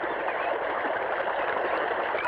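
Water flowing steadily along an irrigation channel on a farm, a continuous broad rushing and gurgling wash that stays even and close throughout, with no voices.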